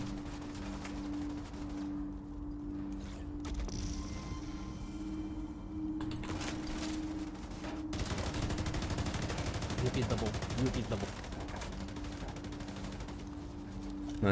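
Video game gunfire from an assault rifle build in The Division 2 crackles in rapid bursts, growing denser and heavier in the second half, with a steady tonal hum underneath.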